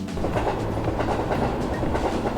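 Steady rumble and rhythmic clickety-clack of a passenger train riding toward Shin-Kobe station in Hyogo, heard from inside the car, continuous and fairly loud with no talk.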